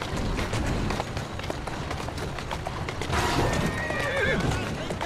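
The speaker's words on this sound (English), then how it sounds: "Who's a good horse?" A horse in the Assassin's Creed Syndicate video game whinnies loudly over steady clip-clop trotting hooves and busy game ambience, with a second neigh partway through and some voices in the mix.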